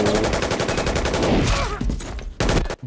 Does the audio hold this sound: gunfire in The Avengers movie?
yes